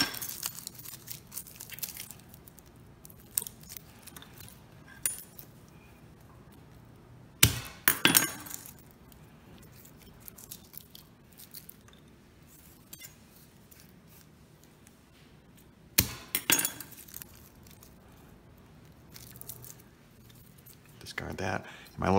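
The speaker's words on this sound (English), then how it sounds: "I'm gonna go ahead and crush some garlic here." Garlic cloves being crushed in a small handheld garlic press while a steak marinade is started, heard as a few sharp, brief clicks and crunches standing out against a quiet room.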